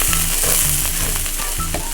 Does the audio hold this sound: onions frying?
yes